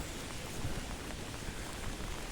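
Heavy rain pours down steadily outdoors, a dense, even hiss of drops hitting surfaces with no talking over it.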